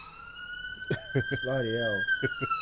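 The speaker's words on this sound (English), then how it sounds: "there's always like police and ambulances and whatever." An emergency vehicle siren holds a steady, slowly rising wail in the background throughout, while someone talks over it in the foreground.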